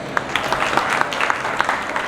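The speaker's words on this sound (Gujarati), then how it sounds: "વધાવીએ જયભાઈને તાળીઓથી" An audience at a tapasvi's mehendi-haldi celebration applauds a speaker, a brief, soft patter of many hands clapping with scattered sharper claps.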